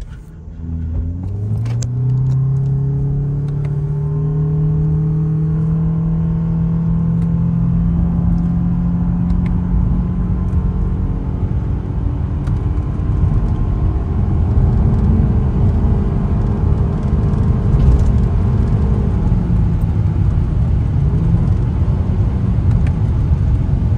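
A Toyota Crown RS accelerates hard in sport mode with paddle shifters, its engine note climbing steadily in a loud, close, continuous surge that keeps building for the whole stretch with no talk over it.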